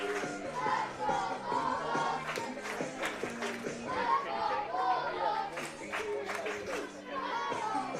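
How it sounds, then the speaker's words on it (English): Crowd at a Cal Ripken 10U World Series youth baseball game chanting for the Bulldogs, a rhythmic chorus of many young voices with claps and chatter, lively and sustained throughout. "So a Bulldogs chant roaring through the crowd here."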